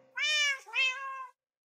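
Cats meowing in a video game, one clear two-part meow, close and moderately loud, with silence after it and no talk.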